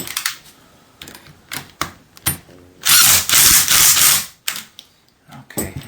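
A power tool tightens a coilover assembly after the helper spring is removed, with short bursts followed by a longer, loud whirring run of about a second and a half, close up, amid clanks and handling noise.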